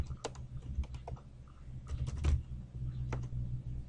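Quiet keystrokes on a computer keyboard as a folder name is typed, a close run of irregular soft clicks over low background hum, with no speech.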